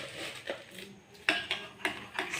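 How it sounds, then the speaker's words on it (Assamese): Yogurt and sugar whisked with a spoon in a bowl, giving soft irregular clinks and scrapes at close range, fairly quiet, with about five sharper taps against the bowl. "চেনি দি পূৰা ফেটি"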